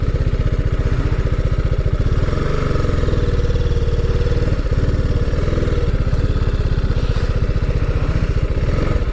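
A close RR 310 sports motorcycle idles at a hilltop stop on an offroad breakfast ride, its single engine thumping in a fast, even, loud pulse for the whole stretch.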